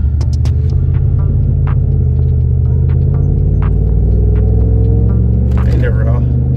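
A brand-new gold-wrapped Ram Rebel pickup truck being driven, its steady low engine hum and road rumble filling the cab from inside, with brief clicks and knocks over the drone.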